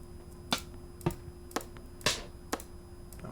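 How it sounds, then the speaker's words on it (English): Rim shot side stick drum samples in Ableton Live click out about every half second, six dry sharp hits over faint steady hum, no talking. "Let's get a side stick sound."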